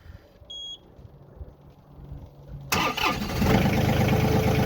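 A short beep sounds, then a Kubota tractor engine cranks and catches, rising into a loud, steady diesel rumble that keeps running up close.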